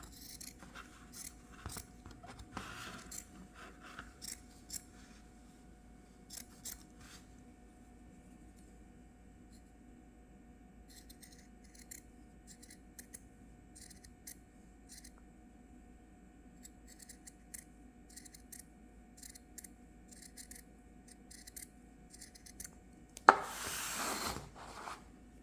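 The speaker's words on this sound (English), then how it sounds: "Okay, let's cut it out." Scissors snip through cross stitch fabric to cut out a circle, giving a series of quiet, irregular clicks and crisp cuts spread over a long stretch, with a louder rustle near the end.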